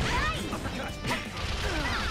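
Fighting game Persona 4 Arena combat, rapid loud kick impacts and whooshing hits layered over game music and effects.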